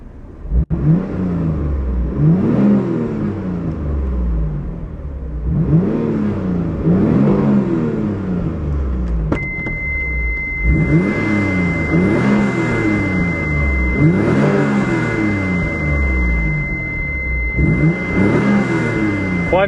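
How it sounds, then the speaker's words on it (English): A 1994 Mitsubishi 3000GT is revved repeatedly in loud, rising-and-falling bursts, its exhaust note swelling and dropping about every two seconds, with a faint steady whine appearing partway through. "Quite an exhaust note."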